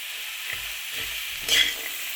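Carrots, beans, peas and peanuts sauté in a little oil in a pan, giving a soft, steady sizzle with a brief stir scraping through it.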